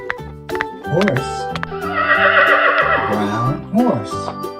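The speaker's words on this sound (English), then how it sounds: "Horse." A horse whinnies loudly and close by, sounding among a set of farm animal toys: two rising and falling neighs, with a steady tone running underneath.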